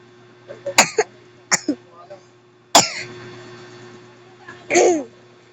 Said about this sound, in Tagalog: sorry, inuubo ko